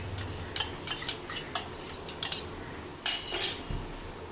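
A spoon clinks and scrapes against a pan while stirring fish and potato mixed with green chilli and coriander, in short irregular strokes, close by and with no talking.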